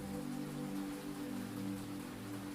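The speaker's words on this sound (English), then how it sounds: "the soft, white noise of rain on glass" Steady, soft rain pattering on glass, a continuous hiss with a gentle low hum underneath, no voices.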